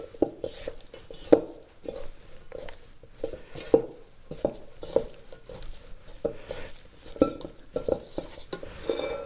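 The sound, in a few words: mixing beef with dry ingredients for stroganoff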